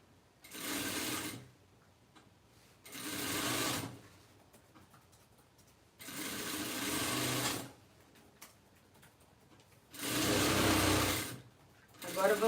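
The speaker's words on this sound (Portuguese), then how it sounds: "É o barulhinho da máquina, mas nós amamos esse barulhinho" Sewing machine stitching fabric for a reused-fabric tote bag, running in four separate bursts of roughly one to two seconds each, close and steady, with quiet gaps between them.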